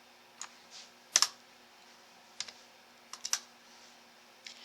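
Sparse keystrokes on a computer keyboard while entering corrections into number and name fields, a few isolated clicks and short double taps, quiet and close with long pauses between.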